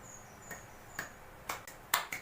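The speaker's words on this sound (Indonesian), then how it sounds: "Kemudian tepuk tangan." A child with athetoid cerebral palsy claps their hands during a pediatric therapy session. About five sharp, irregularly spaced claps sound in a quiet room, getting a little louder toward the end.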